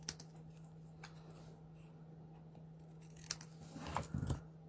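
Faint scissors snips trimming a paper craft piece, a few quiet isolated cuts in a hushed room, then a small cluster of louder snips near the end.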